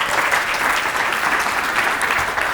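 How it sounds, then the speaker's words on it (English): An audience at a food waste conference bursts into steady, dense applause for a speaker, a continuous clapping wash that holds at even loudness throughout. "Give Sam a big round of applause."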